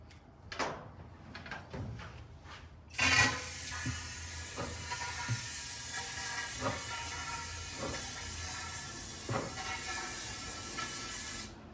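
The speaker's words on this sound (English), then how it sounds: "we're gonna go ahead and spray some brake clean in there" A few faint clicks and knocks, then brake cleaner is sprayed into part of a Kawasaki KFX400 ATV, a sudden loud burst into a continuous hiss that runs on steadily with occasional taps beneath it.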